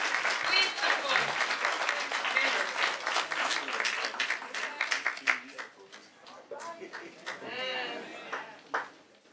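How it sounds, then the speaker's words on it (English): Applause breaks out from an audience at an award ceremony as a leadership award is presented, a dense, loud patter of clapping mixed with whoops that thins out over several seconds while voices carry on. "Let's give them a round of applause."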